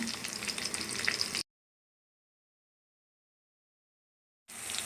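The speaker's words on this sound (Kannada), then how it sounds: "ನಾಲ್ಕು ಹಸಿರು ಮೆಣಸಿನ್ಕಾಯಿ ಹೆಚ್ಚಿಟ್ಕೊಂಡಿದ್ದೀನಿ ಅದನ್ನು ಹಾಕ್ತಾಯಿದ್ದೀನಿ ಇವಾಗ ಇದನ್ನು ಒಗ್ಗರಣೆಯಲ್ಲಿ ಬಾಡಿಸ್ಕೊಳ್ಳೋಣ" Chopped green chillies sizzle in hot tempering oil for a Dharwad-style muddi palya. The frying is close and steady for about a second and a half, cuts to silence, then sizzles again briefly at the end.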